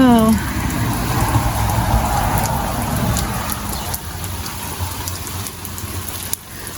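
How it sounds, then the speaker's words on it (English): Steady rain falls outdoors on grass and a trailer area, an even close hiss of drops. A brief voice is heard at the very start, then the rain carries on alone. "Listen to that, y'all. It's raining."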